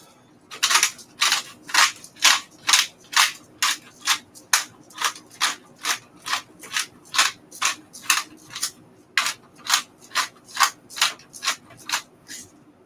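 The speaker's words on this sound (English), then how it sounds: "Don't know how good this pepper grinder is. This one is new, so I'm about to find out." A new pepper grinder cranks out pepper in a rapid run of about two dozen sharp, evenly spaced crunching clicks, close and fairly loud with no voices.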